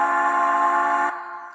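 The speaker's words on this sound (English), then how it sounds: "Now, is that a Penske L1S whistle?" Penske L1S steam whistle blowing one steady, loud, harmonic-rich blast that holds for about a second, then drops to a quieter, thinner tone as it tails off.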